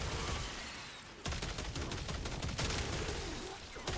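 Dual Coda Torxica weapon in the Warframe video game firing a fast rapid stream of sharp shots that starts abruptly and keeps going, loud and close over a dense background of game noise.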